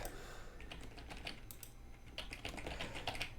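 Rapid computer keyboard typing in irregular bursts of clicky keystrokes, moderately close and fairly quiet over a steady low background hum, with no one talking.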